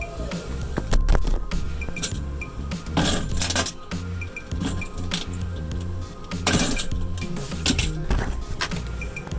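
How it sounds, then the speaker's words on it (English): A hand rivet gun sets a rivet on a Ford Expedition or F-150 door window regulator. Several sharp metallic clicks and snaps ring out, with a couple of louder clanks spaced a few seconds apart. "take your rivet gun, open this thing up, then press it down on the rivet and give her a good whack"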